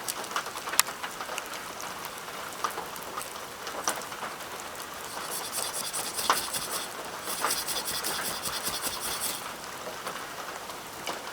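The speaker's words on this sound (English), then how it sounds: "It's raining." Steady rain pattering outdoors, a soft continuous hiss with scattered drops and faint bird calls, moderately quiet, with brief rubbing handling noises and no talk.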